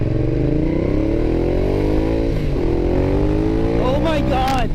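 A 2012 Ducati Diavel motorcycle engine idles loudly and revs up, its deep throbbing rumble climbing in pitch through repeated throttle blips, close by, with a sharper rev burst near the end.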